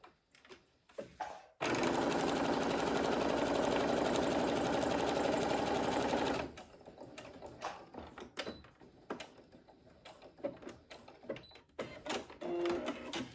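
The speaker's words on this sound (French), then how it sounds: "Et je vais venir faire ma petite surpiqûre." A domestic sewing machine topstitches a small patchwork fabric pouch, running in one loud continuous burst for about five seconds, followed by quieter clicks and handling noises.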